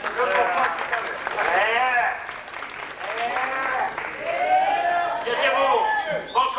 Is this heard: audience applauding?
yes